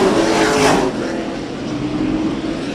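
Pro pickup race trucks roar around the short oval at Auburndale Speedway as the green flag drops, a loud wash of engines swelling and passing, then a sustained droning pack noise continuing.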